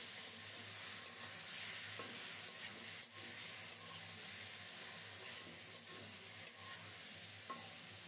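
Loitta (Bombay duck) fish, washed and drained, goes into a pan of long-cooked spicy masala and sizzles steadily and closely, with a few soft stirring knocks along the way and no voices.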